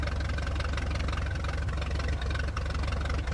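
De Havilland Chipmunk aircraft engine while taxiing, a steady loud droning rumble with an even mid-low throb, continuous and close with no pauses.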